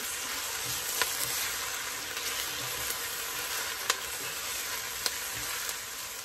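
Mushrooms and onions sautéing over medium-low heat make a continuous close sizzle, with a few faint clicks of a utensil against the pan now and then.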